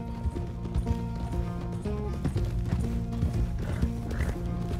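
Horse hooves clop in Red Dead Redemption 2 as a rider pulls up at a stable. The steady hoofbeats sit under background game music, with a faint whinny.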